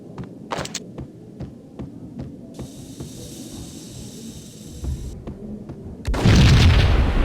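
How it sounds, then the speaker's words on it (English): Explosion in the video game Max Payne: steady low throbbing hum for several seconds, then a sudden loud deep boom near the end that rumbles on. "I thought it was a bomb for sure"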